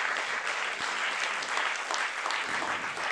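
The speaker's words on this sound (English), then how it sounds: "give a round of applause for Mel Mermelstein" Audience applause at a library speaker series, a dense, even burst of many people clapping close by, filling the whole three seconds without any voices.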